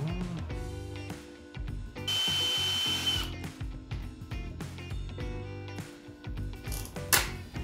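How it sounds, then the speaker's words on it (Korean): A rotary tool bores a hole in the plastic case of a power-grinder battery pack, with short, close bursts of high buzzing and grinding, one longer sustained run and scattered clicks and handling noises in between. "플라스틱 구멍 만들기는 드릴보다 드레넬이 더 편합니다"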